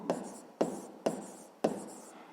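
Four quick, evenly spaced strokes of pen or chalk as notes are written out during a seventh-grade physics lesson, crisp and close with a light scratchy tail on each.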